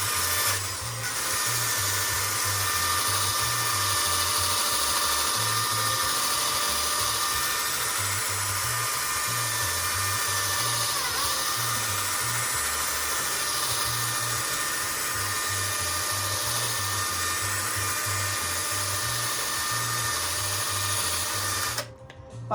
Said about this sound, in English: So let's get the polishing again.